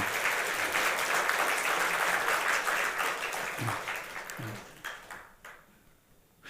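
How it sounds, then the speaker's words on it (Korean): A church congregation gives the choir a burst of encouraging applause that is loud and dense at first, then thins out and fades over several seconds. "우리 좀 격려의 박수를 좀."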